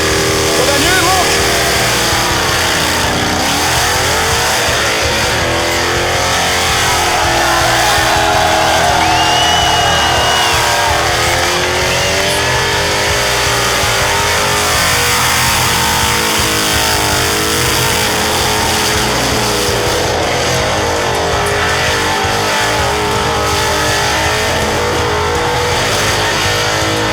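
Clint Ogilvie's car revs hard through a burnout at Summernats, a loud sustained engine roar with rising and falling pitch sweeps, crowd noise and a commentator talking over it throughout.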